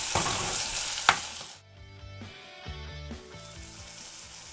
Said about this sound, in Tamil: இப்போ வெங்காயம் வந்து வதங்கிருச்சு. நம்ம தக்காளியை சேர்த்துடலாம்.